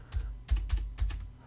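Someone types on a computer keyboard, making a quick run of about half a dozen close, crisp key clicks in irregular bursts, with no talking.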